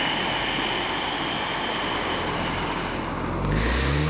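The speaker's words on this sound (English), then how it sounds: "it's a kind of audible running of the breath through the back of your throat" Ocean breathing, with air drawn in and pushed out through the back of the throat, makes a steady, close, breathy rushing like distant surf. It is loud and continuous, with a slight swell near the end and no talking.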